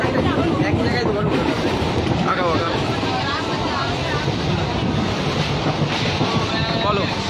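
Moving passenger train, a steady loud rumble and rattle of the carriage with rhythmic clatter, while voices talk over it.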